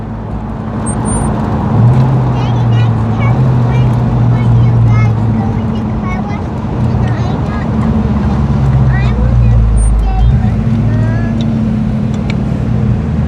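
A Ford 5.0 engine with a fast idle fault runs at a steady, raised idle, a loud continuous droning hum with shifting low tones, while people talk over it.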